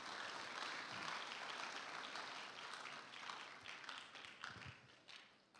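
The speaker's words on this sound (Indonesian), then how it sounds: "Beri tepukan lah sikit." Church audience applause, a dense wash of clapping from many hands that fades a little toward the end.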